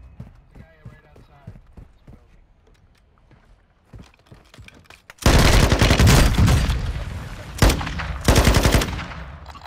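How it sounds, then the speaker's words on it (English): Loud rapid automatic gunfire in a first-person shooter game erupts after quieter footsteps and clicks, sustained bursts with brief pauses, with players talking in the first half. "Where the hell is he shooting you from?"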